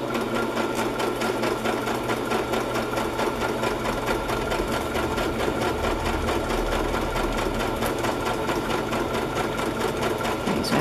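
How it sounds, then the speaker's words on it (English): A sewing machine stitches around a circle on a vellum tag, a continuous fast mechanical whirr and rattle that runs evenly and close throughout. "I'm going to sew around the circle first."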